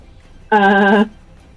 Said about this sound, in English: Sounds like a bird, therefore I blame the bird